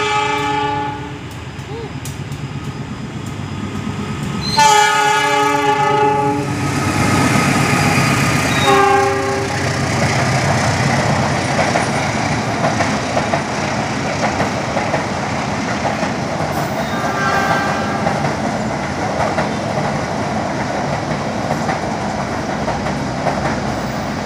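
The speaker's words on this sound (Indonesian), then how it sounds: "Nah, ini dia kereta api Argo Wilis dengan menggunakan livery ketupat." The Argo Wilis passenger train in ketupat livery passes through Cicalengka station: a loud sustained horn blast, then a steady rumbling roar and rail clatter as the train runs through without stopping, with a second shorter horn sounding later.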